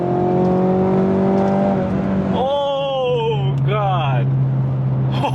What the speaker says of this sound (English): Let's go to second gear.